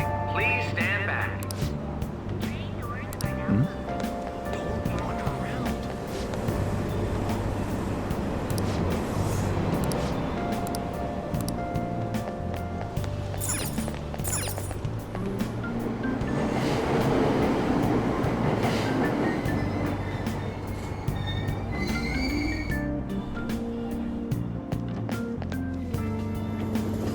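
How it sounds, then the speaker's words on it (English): In the video game Persona 5 Royal, a subway train pulls away from a Tokyo platform with a continuous rumble, rolling rail clatter and squeal. Platform announcements carry over the noise. "Train doors are now closing."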